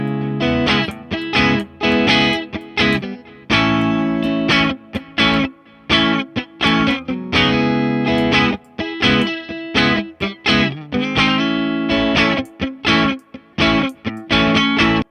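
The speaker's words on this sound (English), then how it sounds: "let's move on with this Echo Man. Like I was saying, I like that it sweetens the tone a lot" Electric guitar played through an Echo Man delay in AmpliTube 5, set to eighth-note repeats, with distorted chords and picked notes ringing loud and close, trailing soft echoes between phrases.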